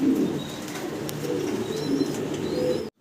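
Pigeons cooing at a pigeon farm, several overlapping low coos close by with faint chirps, ending in a brief sharp noise.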